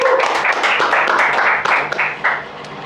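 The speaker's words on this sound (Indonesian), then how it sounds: "Kita beri tepuk tangan untuk Bang Herman." Audience applause for a guest on a podcast, a dense burst of clapping that fills the clip and stays loud throughout before tapering slightly at the end.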